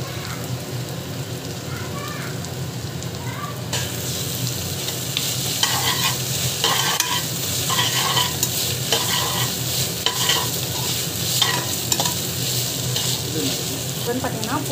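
Steady stirring and scraping of a rice dish with mint and coriander in a frying pan over a continuous sizzle, loud and close, with no talking.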